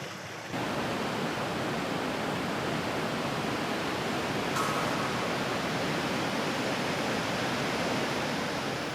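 A broad river winding through the land, its murky water rushing in a steady, dense wash of noise that runs unbroken throughout.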